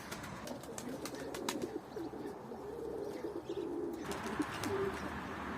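Pigeons coo steadily in a loft, soft throaty calls layered with occasional chirps and faint wing flutters, with no talk.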